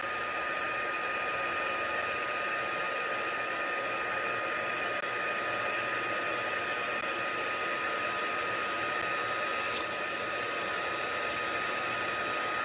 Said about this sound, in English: heat set this with my heat tool and watch what happens.